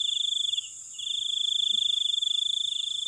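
Crickets trill at night at an oil palm plantation. The rapid pulsing chirps are close and steady, briefly drop off, then resume over a continuous high insect hum, with a faint thump or two and no speech.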